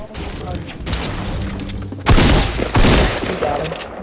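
Hunting rifle fire in a video game: loud booming shots, with two heavy blasts landing close together in the second half over a dense, noisy game mix, with people talking over it.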